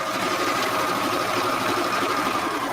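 A sewing machine runs steadily while stitching the curved seams of pajama pants, an even, close mechanical whir that holds without a break.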